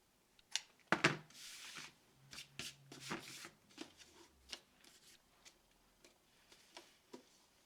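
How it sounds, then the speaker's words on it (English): Scissors snip and rustle through gift-wrap ribbon in a quiet room, a close series of faint, irregular cuts and papery crinkles with a sharper burst of snips early on. "I just like to take my scissors at an angle and just trim."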